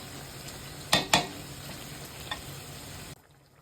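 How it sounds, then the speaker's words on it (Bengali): Garlic and mango pickle stir-fried in a pan, a low steady sizzle broken by two sharp utensil scrapes early on and a fainter one later, cutting off abruptly near the end. "কষানো হচ্ছে। কষাতে কষাতে রসুনটা গলে আসবে"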